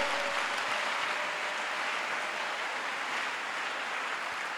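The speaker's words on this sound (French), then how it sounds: "Nous acclamons le Seigneur." A church congregation claps continuously, a dense, even wash of applause that holds steady and fades slightly toward the end, fairly distant.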